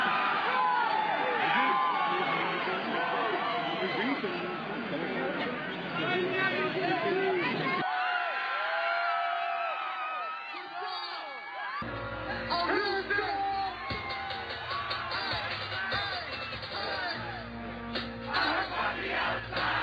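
A dense concert crowd at the Astroworld festival roars with shouting and cheering, loud and continuous, dropping out briefly in the middle before the mass of voices swells back.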